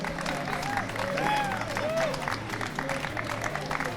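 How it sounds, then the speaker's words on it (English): Steady applause from a crowd at a Tetris championship prize ceremony fills the clip, with a few voices rising over the clapping. "So maybe give a round of applause to the winners."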